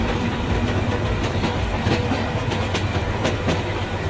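A train running in a Bangladeshi train simulator game, with a steady rolling rumble and repeated rhythmic clickety-clack wheel beats over rail joints, continuous and fairly loud with no talk.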